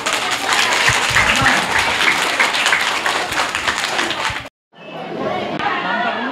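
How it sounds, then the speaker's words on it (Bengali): A crowd at a North Kolkata yoga physique event gives loud, dense sustained applause for about four seconds. It breaks off sharply and is followed by quieter crowd chatter and talk. "এবার জোরে হাততালি।"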